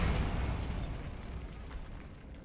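Bombarda explosion spell in the video game Hogwarts Legacy, a booming burst that decays into a rumbling tail over a couple of seconds, close and loud.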